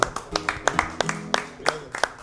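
An audience claps along in a steady rhythm, crisp claps repeating several times a second over a murmur of background music and voices.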